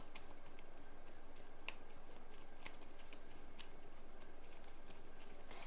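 Tarot cards are shuffled and drawn close by in a quiet room, a rapid run of soft riffling pats and light flicks with a few sharper snaps, and no one speaking.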